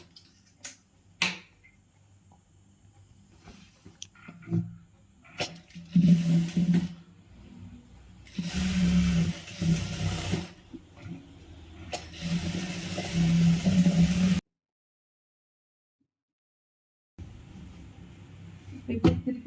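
A tailoring sewing machine stitches a churidar shoulder seam at half-inch width in three rapid whirring bursts, each lasting a few seconds, separated by clicks, handling noises and a silent gap, with some talking in between.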